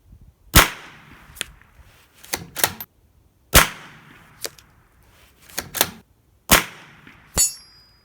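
Ruger Precision Rimfire .22LR rifle fired at steel plates 300 yards out, with sharp individual shots spaced a second or so apart, some followed by fainter echoes or distant impact pings, outdoors with no talk.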